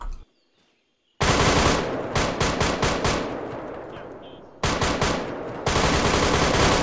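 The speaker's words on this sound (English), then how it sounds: "I can hear gunshots sound like inside." Bursts of automatic rifle fire and single gunshots from a firefight inside village buildings in the military game Arma 3, loud and rapid, broken by a near-silent gap and then resuming in sustained volleys.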